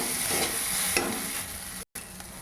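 Rice frying with other ingredients in a pan, a steady bright sizzle with stirring scrapes running throughout and one brief cut near the end.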